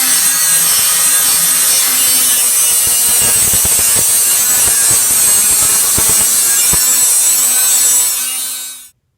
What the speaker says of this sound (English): So I'm going to go ahead and start cutting all of that out of there so then we can prep it for welding.